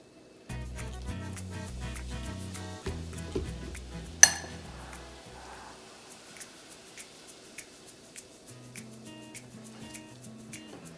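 A utensil clinks and taps against a bowl while potato starch is mixed into tonic water, giving scattered light knocks and scrapes at an uneven pace, with one sharper clink standing out near the middle.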